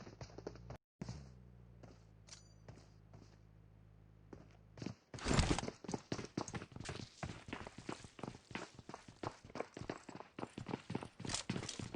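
An enemy player's footsteps in PUBG Mobile start after a quiet stretch as a fast, steady run of sharp taps, close and fairly loud, continuing without a break to the end.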